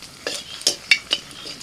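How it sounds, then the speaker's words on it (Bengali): Two dried red chillies hit hot oil left over from frying fish, giving a few sharp, close crackling pops spaced apart over a faint background sizzle. "ওই মাছ ভাজার তেলের মধ্যে 2টো শুকনো লঙ্কা ফোড়ন দিলাম"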